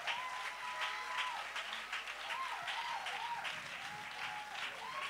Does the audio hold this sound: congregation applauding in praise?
yes